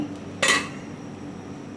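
A single metallic clank sounds as a lid goes onto a pot of chicken vegetable soup, close and sharp, then fades into a faint low background hum.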